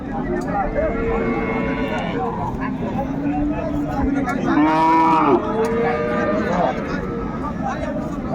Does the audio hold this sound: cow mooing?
yes